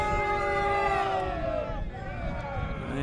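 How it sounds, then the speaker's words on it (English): Soccer stadium crowd at a preseason match between Charlotte FC and Portland Timbers in the Coachella Valley reacts with a sustained roar and rising chants, loud and continuous throughout. "pro-Portland crowd here at the Coachella Valley Invitational"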